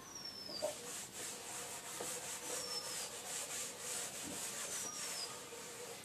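Rubbing of an eraser or duster wiping writing off a board during a maths lesson, a steady scratchy scrubbing in repeated strokes, close and moderately loud, with no talk.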